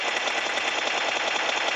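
Rapid automatic gunfire from a battle royale video game, a fast continuous burst of shots, loud and steady with no voices.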